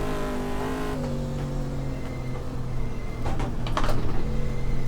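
A Corvette with a 4-speed manual in a GTR2 racing game mod runs its engine at a steady drone, then revs and changes pitch as it accelerates, loud and close.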